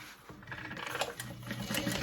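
A sewing machine stitches along the top edge of a felt tote bag, a short close run of rapid mechanical whirring and needle clatter that picks up speed with no talking.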